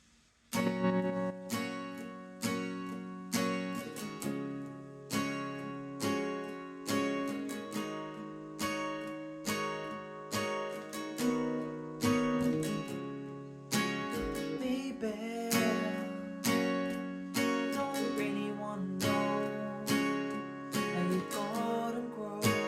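Acoustic guitar strumming the verse of a song, steady rhythmic chord strokes ringing out close and clear for the whole stretch, with no talking.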